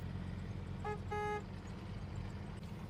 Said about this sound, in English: What's that? It sounds like a car.